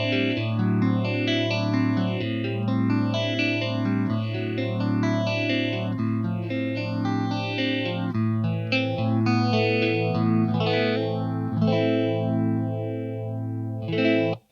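An electric guitar chord is sustained through a phaser pedal, its tone sweeping up and down in steady, repeating whooshes for the whole stretch, loud and alone with no voices.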